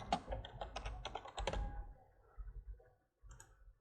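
Typing on a computer keyboard, a quick run of close, crisp key clicks that slows and thins into a few scattered taps after a brief pause.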